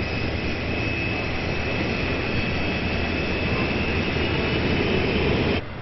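Twin engines of a CF-18 fighter jet roar in a steady, loud, continuous broadband rush with a faint high whine running through it, sustained without break and cutting off abruptly at the end.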